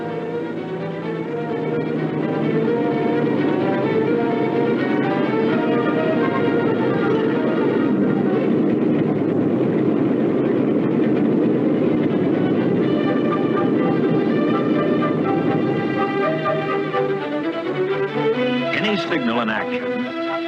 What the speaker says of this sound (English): the train's coming and it can't stop